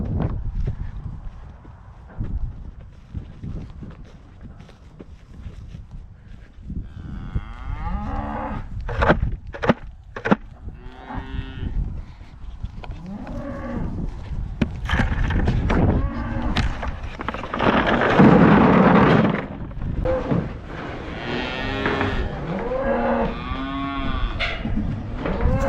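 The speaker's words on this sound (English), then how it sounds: "Come on, cows. You're on the wrong side of the pen." Cattle moo repeatedly in a farm pen, several loud, drawn-out calls overlapping with shuffling and hoof clatter nearby, while a person occasionally calls to the herd.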